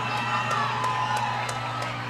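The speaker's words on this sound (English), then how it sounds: "Crowd's getting amped up." A crowd at a collegiate powerlifting deadlift, at the 2018 USA Powerlifting Collegiate Nationals, cheers and whoops continuously, with scattered sharp shouts and yells rising above a dense, loud indoor roar.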